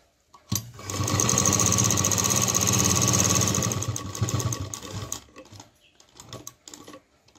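A sewing machine runs a long continuous burst of double stitching along the seam of a homemade tiffin bag, a fast buzzing hum for several seconds, then stops abruptly, leaving quiet rustling.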